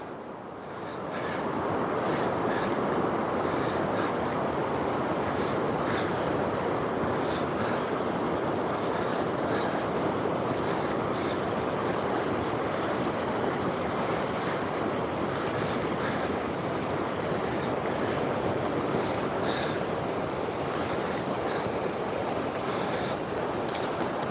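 At an estuary mouth open to the ocean, water rushes over shallow rapids in a loud, unbroken roar that sounds outdoors and wind-buffeted, continuing evenly throughout with no talking.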